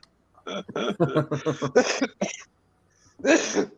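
A person coughs repeatedly in a quick series of harsh bursts, then pauses and gives one more cough, close and clear.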